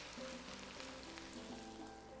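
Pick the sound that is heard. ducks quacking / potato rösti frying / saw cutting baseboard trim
potato rösti frying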